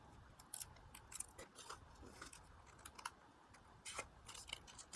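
Scissors snipping paper mask pieces in a quiet room, a series of faint, close, irregular cuts and clicks.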